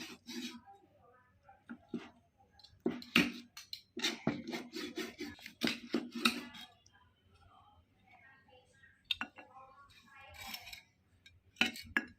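Grilled ribs and squid being cut up, heard as close, crisp snipping and cutting bursts with light clinks of utensils, coming in clusters with pauses, while someone talks in between.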